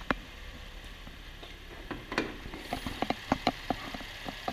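The engine of a Chevrolet Impala sedan idles under the open hood, a quiet, steady run with light ticking and tapping that grows a little more prominent toward the end.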